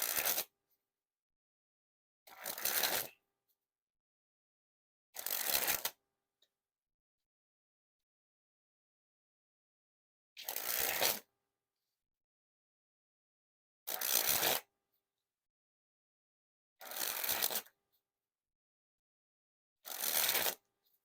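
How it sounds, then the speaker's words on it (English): Silver Peau-Doux playing cards by Art of Play sprung from hand to hand in seven separate bursts of fluttering riffles, each about a second long, close and crisp, with silence between them. "first we'll spring the cards"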